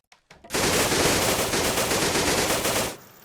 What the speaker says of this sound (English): MG42. And if you ever play Call of Duty 2, this was the gun you wanted.